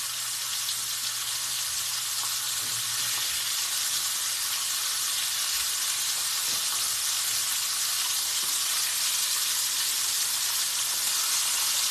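Ribeye steaks fry in a pan with a loud, steady sizzle and hiss that runs unbroken throughout, close and alone with no voices.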